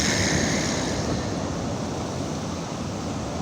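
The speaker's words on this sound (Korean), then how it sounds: "파도는 장난 아니다." Rough ocean waves break on the shore at a sunny seaside fishing spot, making a steady, full roar of surf with no voices.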